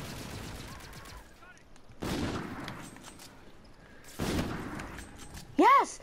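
Bursts of gunfire from the Call of Duty: Infinite Warfare multiplayer Moshpit mode crack out in two spaced volleys, with game effects and a bright chirping tone near the end.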